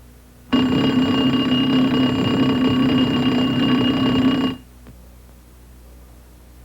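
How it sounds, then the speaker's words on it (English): The troop alarm bell inside a CH-47 helicopter rings loudly and continuously for about four seconds, a steady metallic clang that then cuts off to quiet. "The bell should function when the troop alarm switch is placed in the on position."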